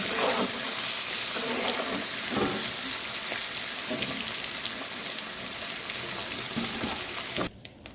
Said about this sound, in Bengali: এই দেখো পনিরটা সুন্দর করে ভাজা নিয়েছি